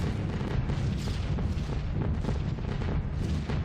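Flak barrage in the B-17 The Mighty 8th flight game: dense, continuous rumbling bursts of anti-aircraft fire pound without pause, a heavy wall of booms and crackle over low engine drone, loud and close throughout.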